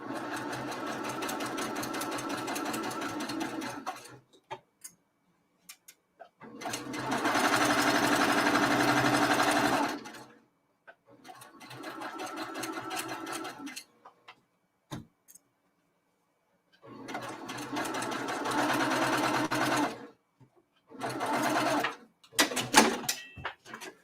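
A Baby Lock Luminaire sewing machine stitches quilt pieces in several bursts of rapid, even whirring, each running a few seconds and separated by silent pauses, fairly close and moderately loud.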